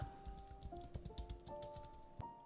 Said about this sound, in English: So now you start typing something like